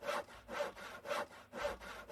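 Saw sound effect for wall building in a Unity survival game: a hand saw rasping through wood in five even back-and-forth strokes, soft and unaccompanied.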